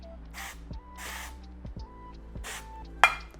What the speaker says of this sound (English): So I'm gonna take some avocado oil spray.